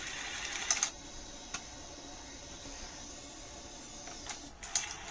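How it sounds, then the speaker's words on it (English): An NEC SuperBeta HiFi VCR takes in a cassette, a quiet mechanical whir with several sharp clicks and clunks of the loading mechanism, close and alone. "push in the cassette, and you'll notice that it's now taking in the cassette"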